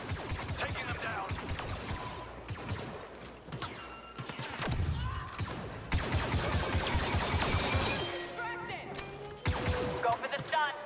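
Blaster fire crackles through a Star Wars Battlefront II campaign firefight: rapid, dense volleys of shots, some near and some farther off, over busy battle noise and effects.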